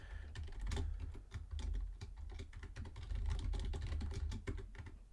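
Fast, continuous typing on a computer keyboard, dense rapid key clicks heard close and steady for several seconds with no talking.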